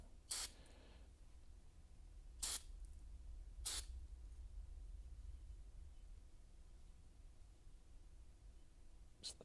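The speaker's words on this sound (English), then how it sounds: "I'm gonna give it a degrease, hit it with the brake clean" Brake cleaner hisses from an aerosol can onto a car part in a quiet garage, three short bursts a couple of seconds apart over a low hum.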